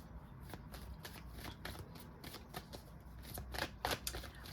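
Tarot cards being shuffled and pulled, a quiet, steady papery riffle with soft slaps and flicks that grow a little louder near the end, heard alone without talk.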